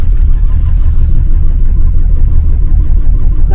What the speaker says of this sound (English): sounds like we're having bus trouble already and we haven't left